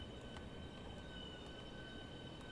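A train departing in the Train Sim World 3 game on the Southeastern High Speed line gives off a steady low rumble and rail noise with a faint tonal whine above it, continuous and even, with no talk.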